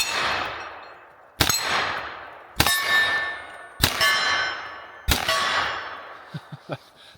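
Four sharp metallic clangs as flat-tipped 10mm bullets strike steel targets at regular intervals, each impact followed by a long ringing decay, with a few faint knocks at the end.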